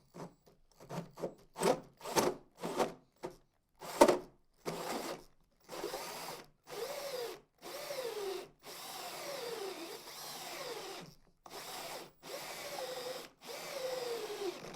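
A 6-inch carbide tip hole saw bores into a J&J Echo recirculating portable toilet, starting in short rapid grinding bursts and then settling into longer, evenly spaced cutting runs separated by brief pauses.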